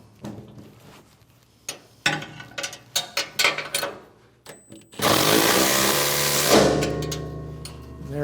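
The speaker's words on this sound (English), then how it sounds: "you can use a ratchet, or I'm going to use an impact here" An impact wrench with a 3/4 inch socket drives a bolt on a Muskox snowblower's auger sprocket. A few sharp metallic clanks of handling come first, then a loud, steady hammering burst of about a second and a half, close up.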